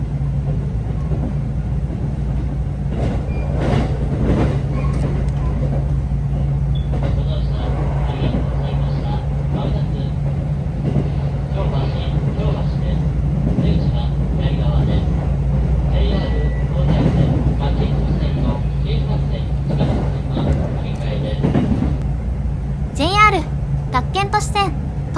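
A JR West 323 series Osaka Loop Line train passes a moving train near Kyobashi, under a steady low rumble of onboard running noise with clatter throughout and a brief sharper squeal near the end.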